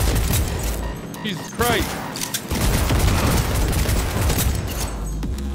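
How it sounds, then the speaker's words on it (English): Rapid bursts of smart gun fire in Cyberpunk, dense crackling shots nearly continuous and loud, while a man exclaims over the action. "she got a smart gun!"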